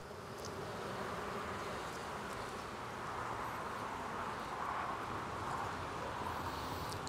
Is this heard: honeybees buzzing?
yes